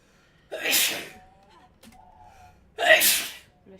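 Two loud sneezes come close to the microphone during a charity livestream, about two seconds apart, each a sharp burst after a brief intake, with faint murmuring between them.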